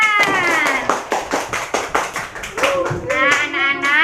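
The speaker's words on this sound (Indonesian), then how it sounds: "beri tepuk tangan" Rhythmic hand clapping from a fifth-grade class, several claps in quick succession, with children's voices chattering over and between the claps.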